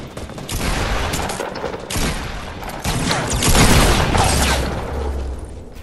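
Rapid bursts of video game gunfire crackle loudly and continuously, with overlapping shots and booms.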